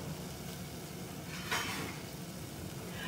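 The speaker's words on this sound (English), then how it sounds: "stir it a little bit so that it melted" Sugar melting in a little water in a pan for coffee caramel sauce, stirred with a soft steady sizzle and a faint scrape, quiet and close, no talking.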